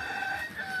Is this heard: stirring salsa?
no